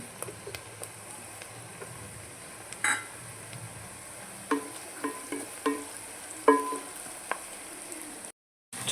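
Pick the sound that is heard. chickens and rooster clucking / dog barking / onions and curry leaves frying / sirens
onions and curry leaves frying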